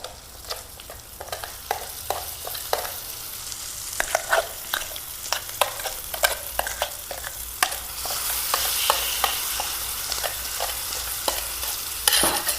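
Ground budamkaya mixture fries in a pan, a steady sizzle broken by frequent scraping, clacking strokes of a stirring utensil, close and continuous with no talking.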